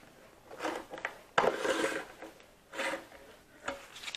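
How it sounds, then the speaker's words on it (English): A 5-in-1 painter's tool prying at the lid of a paint can, giving several short scraping, rubbing metal-on-metal bursts close up, with brief pauses between efforts. "I'm going to open up the can of paint with my 5-in-1 tool"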